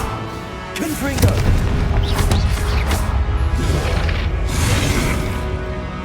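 Confringo blasting spell explosions in Hogwarts Legacy, heavy booms and crashes with whooshing bursts, loud and close, over a rumbling base, mixed with brief game voices.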